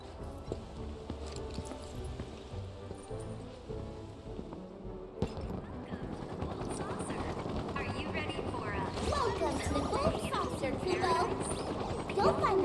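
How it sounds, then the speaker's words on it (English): Golden Saucer helicopters in Final Fantasy VII Rebirth give a steady rotor drone that swells louder partway through and sits under game music and effects, with voices speaking over it. "these are just Golden Saucer helicopters, I guess"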